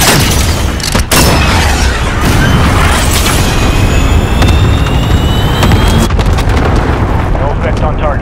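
A missile launch and blast in Call of Duty Modern Warfare: a loud booming roar with a sharp thump near the start, rumbling on continuously with mechanical whine, loud and close.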